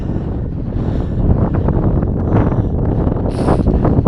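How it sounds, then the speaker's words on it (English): Strong wind buffets the microphone on a Welsh coastal hike beside the Irish Sea, a loud continuous roar with gusty swells and no voices. "Maybe the wind's a little bit more forgiving."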